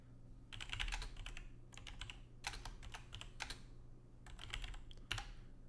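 Typing on a computer keyboard at a desk while setting up a server launch script, with bursts of rapid key clicks separated by short pauses, close and fairly quiet, with no voice.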